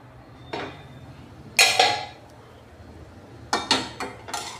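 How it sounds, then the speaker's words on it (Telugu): Metal pot lids and cookware clink and clatter in a kitchen while carrot rice fries on low heat, with one sharp clank, then a quick series of lighter knocks, no talking. "మూత పెట్టి వేయించుకుందాం ఇలాగా."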